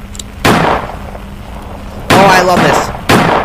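Three loud, sharp gunshot blasts go off in the Roblox Choo Choo Charles game, spaced about a second or more apart with booming tails, while a player talks excitedly over them.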